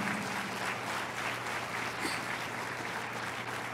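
A church congregation applauds in praise during a Spanish-language sermon, giving a dense, steady wash of clapping that holds for the whole stretch with no speech over it.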